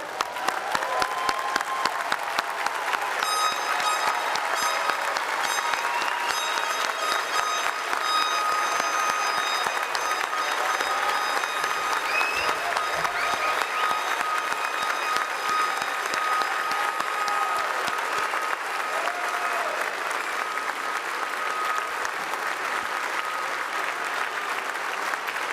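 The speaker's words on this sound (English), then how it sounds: "let's have a standing ovation for these graduates" A commencement crowd gives graduates a standing ovation, dense sustained clapping that continues evenly for roughly twenty-five seconds with scattered cheers mixed in.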